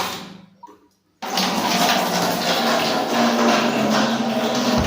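After a faint quiet moment, water suddenly gushes into a bucket at home, making a loud, steady rushing pour that keeps going to the end.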